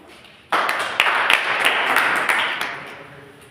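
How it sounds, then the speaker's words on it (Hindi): An audience at a village panchayat committee training session breaks into a sudden burst of applause, a few seconds of steady clapping that fades toward the end. "चलिए भाई, चलिए एक जोरदार ताली हमसे"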